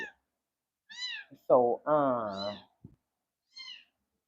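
A small house cat meows several times, loud and close, with short, drawn-out cries between brief bits of a person talking nearby.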